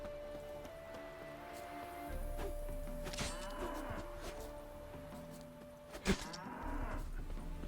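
Cattle mooing in the video game The Witcher, a few low lowing calls rising over a steady game soundscape with a brief sharp thump near the end.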